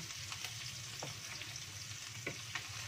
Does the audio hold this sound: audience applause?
no